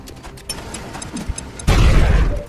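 A grenade explodes in a video game: faint clicks and game tones come first, then a loud, sudden blast lands about two-thirds through and leaves a heavy rumble that keeps going to the end.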